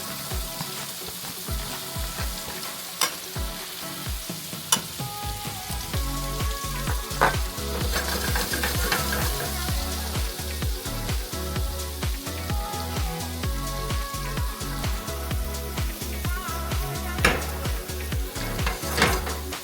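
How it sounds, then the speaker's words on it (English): Onions and garlic sizzle in hot oil and butter for tortellini alla panna, a dense crackling fry close to the pan with occasional utensil clinks and stirring scrapes, continuous throughout with no talking. "got my oil, my butter nice and hot. I'm gonna do my onions, my garlic, get that going."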